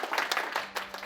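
A short burst of crowd applause, many hands clapping in a dense, steady patter at moderate volume.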